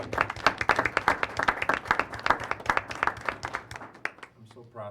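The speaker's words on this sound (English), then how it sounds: "Can we just get a round of applause for Mike?" Room applause at a board of education meeting, steady and fairly close, with rapid overlapping claps running nearly five seconds before thinning near the end as a voice begins.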